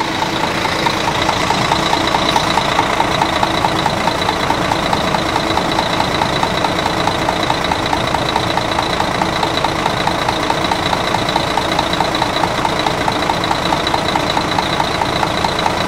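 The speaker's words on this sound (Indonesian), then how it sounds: "Kita dengerin suara mesinnya ya." A large double-decker bus diesel engine idles steadily and loudly at close range, a constant rumbling drone with a faint rhythmic knock, no voices.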